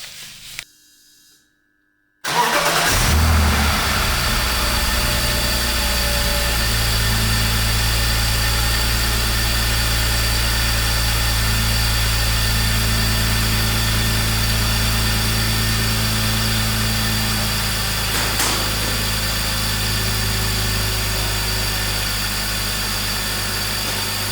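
A BMW E46 with an M54B30 inline-six cranks after a brief silence, catches and settles into a steady, loud idle with a constant low hum, fresh from a valve stem seal replacement.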